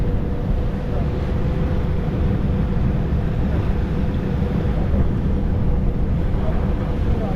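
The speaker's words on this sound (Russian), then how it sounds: "И тут прям ветер посильнее поднялся" Strong wind buffets the microphone on a ferry on the Bosphorus in Istanbul, a continuous low roar, steady and loud throughout with no voices.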